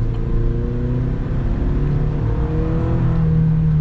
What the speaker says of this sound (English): So first off, let's see what the acceleration's like.